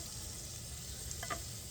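Steak sizzling in a 1943 steak broiler, a steady close hiss and crackle of frying fat, with a brief clink of metal near the end.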